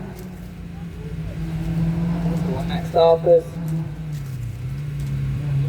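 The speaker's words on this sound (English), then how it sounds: "So the Westfield on his way up." A Westfield race car climbs a hillclimb course, a distant engine drone rising and falling in pitch as it works up the hill, steady and moderate beneath a commentator's talk.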